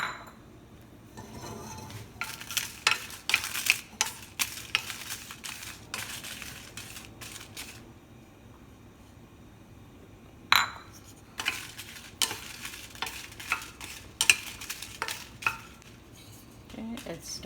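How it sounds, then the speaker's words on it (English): Dry red chilies being lightly roasted in a pan for Mangalorean mango chutney, heard as intermittent rattling and scraping as they are stirred, in scattered bursts with quiet gaps and no speech. "I'm going to start off by roasting these red dry chilies. Just lightly roast them."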